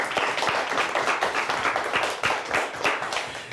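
A studio audience at a televised high school quiz show claps steadily and moderately loud, a dense patter of hands with no talking over it.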